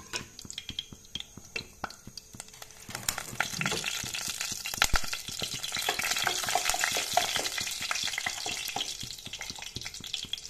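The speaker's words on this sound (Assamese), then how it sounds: "ইয়াতে এতিয়া তেজপাতকেইটা দি দিছোঁ, শুকান জলকীয়া দুটা দিছোঁ আৰু লং, ইলাচি আৰু দালচেনিকেইটা দি দিছোঁ।" Bay leaves, dried chillies, cloves, cardamom and cinnamon frying in hot oil, a continuous close crackling sizzle that swells louder partway through, dotted with sharp pops and spoon scrapes.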